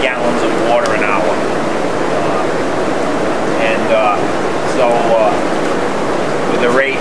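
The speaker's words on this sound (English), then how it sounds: "So this evaporator right now is evaporating approximately 150 gallons of water an hour." Maple syrup evaporator boiling sap at about 150 gallons of water an hour: a steady loud roaring, hissing rush like rolling surf, with someone talking over it throughout.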